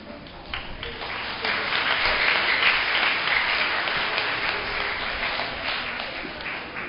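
A church congregation claps and applauds together during a Christmas service, a broad, steady wash of many hands lasting several seconds at full strength before easing slightly, with no one speaking over it.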